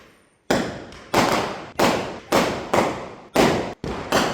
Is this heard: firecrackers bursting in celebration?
yes